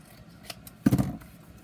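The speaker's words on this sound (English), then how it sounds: "I think I'm going to cut off the yellow shoe" Scissors snip paper for a junk journal pocket: a few faint light ticks, then one sharp, close cut with a brief crisp rustle, in a quiet room.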